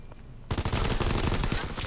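Machine pistol gunfire in Call of Duty: WW2, a rapid burst of loud automatic shots erupting suddenly after a quiet moment and rattling on without pause.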